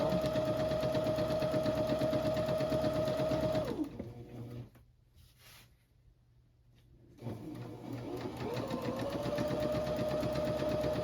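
A sewing machine runs a long straight line of gathering stitches on a dress, with no backstitching. It whirs steadily, pauses briefly with near silence, then starts again and keeps stitching evenly and close.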